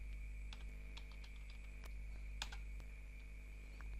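Quiet, uneven keystrokes on a computer keyboard while entering tax invoice numbers, a scattering of light clicks with a louder tap or two, over a steady low electrical hum.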